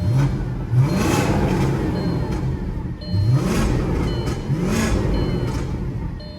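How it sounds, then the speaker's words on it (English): A warmed-up 4.2-liter V8 in an Audi C5 S6 Avant wagon with 155k miles revs three times in quick succession, each burst climbing sharply in pitch and then falling back to a steady idle, loud and close by. "We're up to operating temperature so you can hear the engine."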